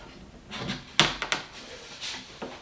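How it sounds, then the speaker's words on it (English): An undermount drawer is pushed back onto its slide tracks so the hooks at the back engage. Soft sliding rubs lead to one sharp close knock and two quicker clunks, then faint scraping. "I'm going to reinstall the drawer and check it"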